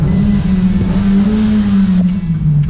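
Hyundai i30 with its stock exhaust accelerating through a tunnel, a loud, steady engine drone that echoes and fills the enclosed space, with its pitch holding fairly even throughout.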